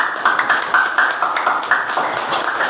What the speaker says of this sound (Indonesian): Tepuk tangan untuk Soraya